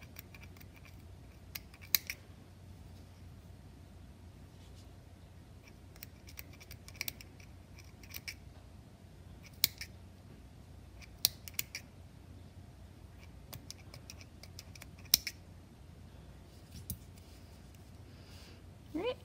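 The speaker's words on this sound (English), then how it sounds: "go ahead, cut the bottoms loops of your tassel" Scissors snip through the bottom loops of a crocheted yarn tassel in a series of sharp, quiet, scattered clicks over a soft, steady background hum.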